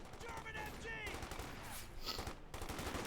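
Machine gun fire and scattered gunfire rattle through a Company of Heroes 2 battle, sustained bursts running under background battle noise with brief voice-like sounds mixed in.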